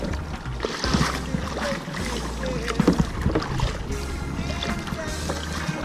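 Kayak paddling on the sea off Kona, Hawaii, with two people in a tandem boat: repeated splashing strokes and water sloshing against the hull over a low wind rumble, close and fairly loud throughout.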